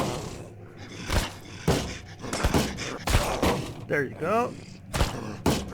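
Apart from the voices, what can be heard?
gunshots fired in Mist Survival video game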